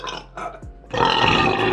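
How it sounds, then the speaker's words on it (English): Two short throaty bursts, then a longer, louder belch rumbles close up and alone, a low croaking burp. "It's a pretty flat burp so far."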